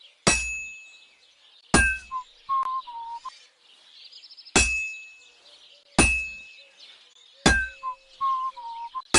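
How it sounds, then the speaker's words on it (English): A hammer striking a sword on an anvil in the Kingdom Come: Deliverance II video game, five sharp ringing metallic clangs at a steady, unhurried pace, each with a bright ringing decay and small clinks between. "Now take the hammer and try hitting it a few times."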